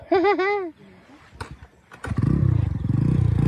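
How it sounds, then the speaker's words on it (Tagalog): Motorcycle engine straining on a slippery muddy farm road, a rough revving putter that builds and holds loud near the end, following a brief high animal-like cry and a couple of sharp clacks early on. "Kahit hirap na hirap yung motor ni kuya."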